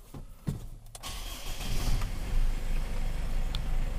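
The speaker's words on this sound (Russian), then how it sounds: "Сейчас заведу машину," A diesel GAZelle van's engine cranks and starts with a couple of clicks and a starter whir, then settles into a steady, close, moderately loud running rumble.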